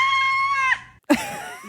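A person imitates a one-year-old girl screaming at other babies, letting out a shrill, sustained scream that bends down, then after a brief gap a second rougher, wavering screech.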